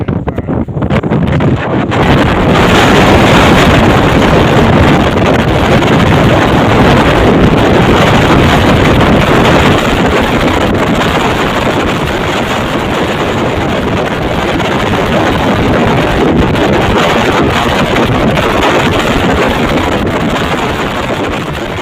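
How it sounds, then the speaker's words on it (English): Strong wind blasting across a high-elevation site in Ethiopia, a loud, steady broadband roar buffeting the microphone for over twenty seconds after a brief quieter start, with no voices. "At elevated places, the wind speeds easily surpasses 30 km per hour."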